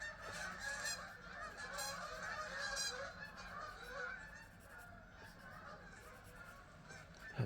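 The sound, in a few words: seagulls calling outside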